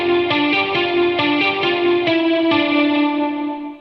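A short instrumental melody fragment played several times in a row with a processed, chorus-like tone, the final repetition altered and left to ring out and fade.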